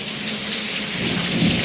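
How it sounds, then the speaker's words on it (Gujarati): Heavy windy rain pours steadily with a gusty, rushing wash and a low rumble of thunder underneath. "આમ તો પવનવાળો વરસાદ છે"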